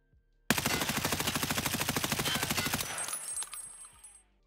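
An M4 rifle with higher recoil fires in a video game: one sustained automatic burst of rapid, evenly spaced loud shots lasting over two seconds, then a ringing echo tail fading away.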